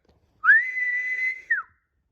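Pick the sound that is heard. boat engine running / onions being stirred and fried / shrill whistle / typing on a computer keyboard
shrill whistle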